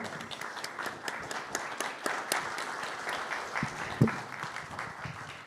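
An audience applauds steadily at a symposium closing in Kurashiki, a dense wash of many hands clapping at moderate distance, with a short spoken word near the start.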